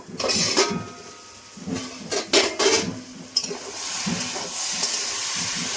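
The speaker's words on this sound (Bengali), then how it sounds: "ঢাকনা খুলে দেখে নেব।" A lid comes off a cooking pot of vegetarian bottle gourd (lau) curry with a few sharp metallic clanks and scrapes, then a soft steady simmer hiss.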